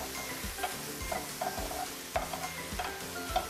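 Mushrooms with serrano ham cooking in a very hot pan, giving a steady close sizzle broken by repeated stirring scrapes and clacks of a utensil against the pan, with no voices.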